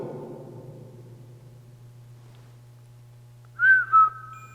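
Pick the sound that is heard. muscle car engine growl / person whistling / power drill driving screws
person whistling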